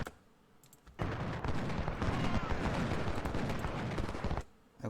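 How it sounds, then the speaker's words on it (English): Artillery and gunfire from the Civil War strategy game Ultimate General: Civil War crackle in a dense burst of rapid overlapping shots that erupts abruptly, holds for several seconds, then cuts off, fairly quiet overall. "Artillery."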